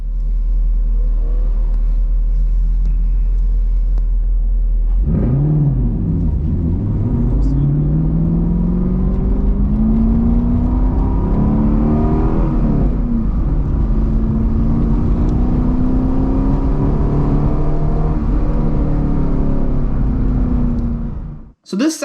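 A 6th gen Camaro fitted with BMR parts runs road course laps, its engine droning and rising and falling through gear changes in a long, loud, steady in-car roar with no voice.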